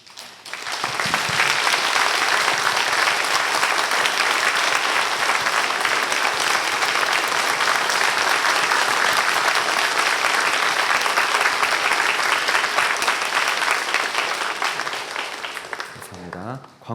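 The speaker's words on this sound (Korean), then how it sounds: "목사님께서 나오실 때 박수로서 감사를 표해 주시기 바랍니다" A church congregation claps to thank a guest pastor at a New Year revival service, sustained even applause filling the hall for about fifteen seconds before stopping abruptly.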